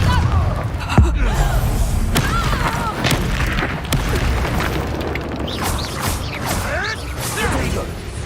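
Spell blasts such as Bombarda and Confringo from the Hogwarts Legacy video game, repeated booming thuds and crackling impacts in busy combat, with a voice speaking over the action throughout.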